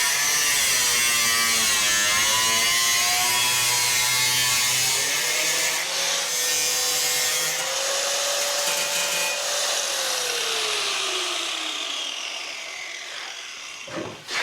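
A power tool deburrs the edges of a car body panel with a loud, continuous grinding whir. Its pitch sags and rises as the tool bears on the metal, then it spins down to quiet near the end.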